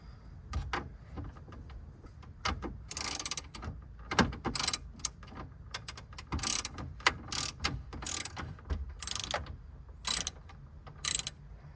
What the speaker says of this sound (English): we're gonna actually take out these 4 screws on the sides